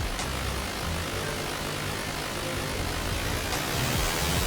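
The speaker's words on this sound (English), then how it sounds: "I don't know why the engine's revving so crazy" A dense, continuous vehicle engine roar in the video game Stormworks holds at a high, strained pitch throughout, loud and unbroken like a motor revving hard while climbing a slope.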